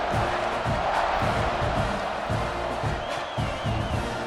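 Stadium crowd roaring and cheering in the video game College Football 26 at an Auburn versus Texas A&M game, a dense sustained wall of voices with swelling surges, loud and continuous throughout.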